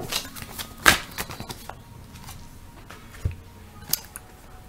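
Tarot cards shuffled and handled during a reading, giving a quiet run of soft papery riffles and taps with one sharper snap near the start, close up and with no talk.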